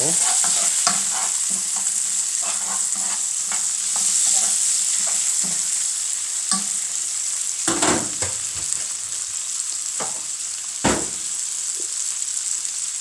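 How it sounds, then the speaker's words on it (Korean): Bacon and sliced onion stir-fry in a pan with a loud, steady sizzle, broken by frequent scraping strokes and knocks of a utensil against the pan throughout. "베이컨이 어느 정도 익었다 싶으면은 아는 편썬 거라고 양파 넣어서 볶아주시면 됩니다"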